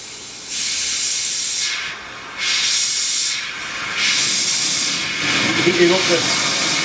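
A torch heats a hardened file plate to take out its temper, giving a loud hissing rush in several long bursts separated by brief quieter gaps.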